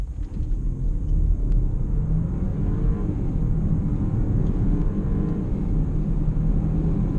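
Audi Q5 in normal drive mode accelerating hard from 0 to 60 mph, a steady loud low engine and road rumble heard from inside the cabin with no talk.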